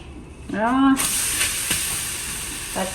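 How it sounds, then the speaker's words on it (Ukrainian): A pancake sizzles in a hot frying pan, a steady close hiss of batter cooking that starts abruptly after a brief voiced sound and continues evenly to the end. "І зараз буде смажитися млинець"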